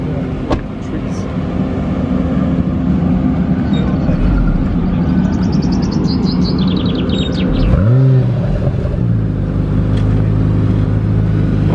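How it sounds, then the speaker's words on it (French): A Honda NSX sports car with Pierre Gasly at the wheel revs its engine, the pitch sweeping up sharply before it settles into a steady drone as it pulls away, with birds chirping and voices nearby. "je vous filmais Pierre Gasly apparemment partir avec cette Honda NSX"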